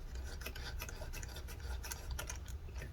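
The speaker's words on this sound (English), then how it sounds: "let's go ahead and tighten this screw all the way" A screwdriver tightens a screw by the heatsink inside a Late 2018 Mac mini A1993, giving close, steady rasping and faint ticking grinding that runs without pause; no one speaks.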